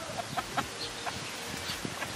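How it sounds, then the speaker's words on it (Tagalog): An uncle's pet chickens cluck in short, scattered bursts at a provincial home, fairly faint with a low background hum and no talking. "Ito na po yung mga manok ni Uncle na alaga niya."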